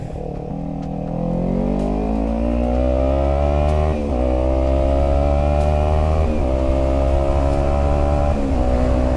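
A starter motorcycle, an AX400, starts up and revs repeatedly, its engine pitch climbing in several loud, close surges with brief drops between them.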